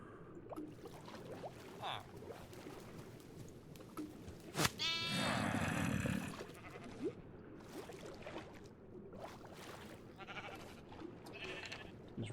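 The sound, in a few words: sheep bleating in Minecraft video game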